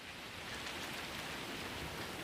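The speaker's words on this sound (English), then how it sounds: "If it started raining like this, I'd just go home." Heavy video-game rain pours down as a dense, even hiss, loud and unbroken, with no voices over it.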